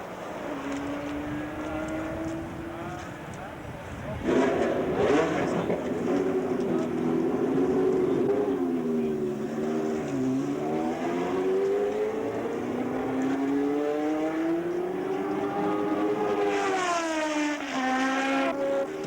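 Engines of 1974 Formula 1 race cars, including a Penske and a Parnelli, rise and fall in long, loud, sustained whines as the cars pass through the gears, with a second car's note joining near the end.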